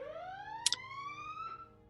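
An alarm sounds in a single rising electronic wail that climbs steadily in pitch, fairly faint, with a brief sharp click partway through and no talk over it.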